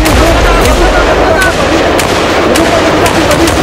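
Rapid gunfire crackles continuously in a combat scene, with shots fired at an enemy below while voices shout over the dense, loud barrage.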